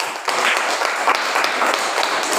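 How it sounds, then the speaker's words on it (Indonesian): A crowd claps together in a steady, dense burst of applause that starts abruptly and continues evenly for a couple of seconds. "Tepuk tangan untuk kelompok A."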